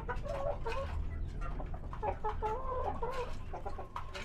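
Hand-fed Ratu Siam chickens from Thailand murmur and cluck close by, busy overlapping clucks and soft calls over a faint low hum.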